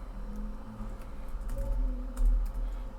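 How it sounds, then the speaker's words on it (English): Keys tapped on a computer keyboard in short, uneven bursts of soft clicks, close and fairly quiet over a low hum. "So let's go back and just type it here"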